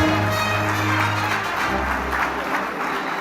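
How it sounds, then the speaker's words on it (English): Applause from an audience at the TCS CodeVita grand finale in Mumbai rolls on as a dense, steady clatter of many clapping hands over a lingering low hum. "Let's have a huge round of applause"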